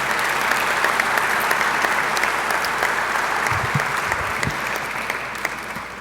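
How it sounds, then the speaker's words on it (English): An audience applauds a new university president at a Seton Hall introductory press conference, a continuous loud wash of clapping from a packed room that holds steady and tapers slightly at the end. "have a round of applause for President Nair as he begins his tenure at Seton Hall"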